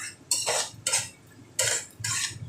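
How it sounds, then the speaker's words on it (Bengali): Rajma masala being stirred and fried in a pan, heard as four distinct bursts of spoon-on-metal scraping with short pauses between, close and fairly quiet, with no talking. "ভালো করে মশলাটা সব মিশিয়ে নিয়ে ভালো করে ভাজা করে নিব।"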